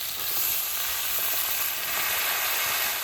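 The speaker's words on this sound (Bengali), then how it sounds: "মিষ্টি আলু এমনি আলু আর উচ্ছে একসঙ্গে ভেজে কষানো হয়ে গেছে এবার শাকটা দিয়ে দেবো পালন শাকটা" Spinach tossed into a pan of fried sweet potato, potato and bitter gourd, giving a steady, loud, close sizzle that holds throughout with no talking.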